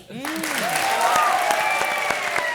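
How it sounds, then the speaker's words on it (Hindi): Audience applause at a Comedy Circus comedy show, a loud steady burst of clapping that starts abruptly and continues throughout, with faint voices and tonal sounds mixed underneath. "जोरदार तालियां।"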